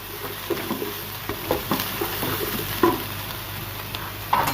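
Chicken, cabbage and capsicum stir-fried in a pan, a steady hiss of frying under repeated scraping and tossing strokes of the spatula, close and moderately loud, no talking.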